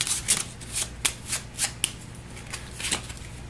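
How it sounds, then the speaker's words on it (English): A deck of cards for the Eldritch Horror board game is riffled and shuffled close by, with a run of crisp, sharp flutters in an uneven rhythm, alone without talk. "Give it a shuffle."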